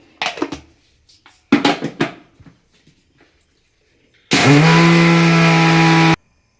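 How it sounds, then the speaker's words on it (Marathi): An electric mixer grinder grinds roasted sesame seeds for sesame ladoos, a loud steady whirring roar with a strong motor hum lasting about two seconds, following a few clattering handling sounds. "आता तिळ मस्तपैकी थंड झालेले आहेत. आपण मिक्सरमधून काढून घेऊ."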